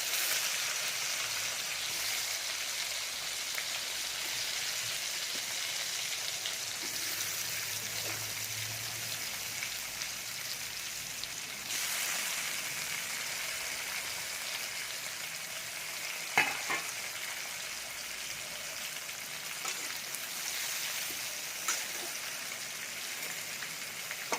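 Ridge gourd coated in masala fries in hot oil with turmeric and curry leaves, making a constant, dense sizzle like light rain, with occasional scrapes and clinks of stirring and no voices.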